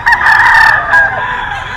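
A sweater gamefowl stag rooster crows once, loud and close, a single strained call lasting under two seconds with a brief rising start and a trailing end.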